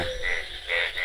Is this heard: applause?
no